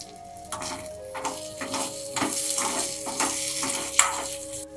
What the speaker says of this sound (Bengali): প্রথমে একটা কড়াইতে গোবিন্দভোগ চাল দিয়ে দিলাম, তারপর বেশ পরিমাণ মতো ঘি দিয়ে দেব।